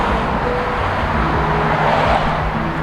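A Dodge Challenger 392 TA wide body pulls away with a loud, low engine rumble that holds steady and close for a few seconds.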